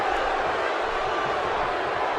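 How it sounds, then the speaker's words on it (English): An arena crowd buzzes continuously in the WWE 2K17 video game, a dense, steady wash of cheering and murmur at even loudness with no break. "The crowd is buzzing."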